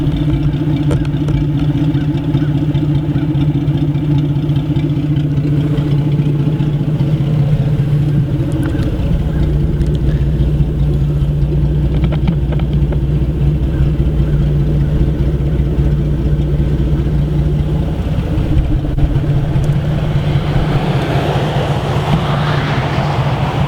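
An old, worn crawler vehicle, muffler missing, runs steadily and loudly close by, a continuous rough engine drone that shifts pitch partway through.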